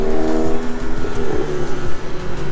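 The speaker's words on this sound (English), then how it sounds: "The turbo whistle's obnoxious." A car with a whistling turbo at a car show gives a steady, loud engine drone with a tonal whine running throughout, close by and without talk.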